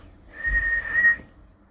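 A person whistles a single loud, steady tone lasting about a second, imitating a whistle blast, alone against a quiet background.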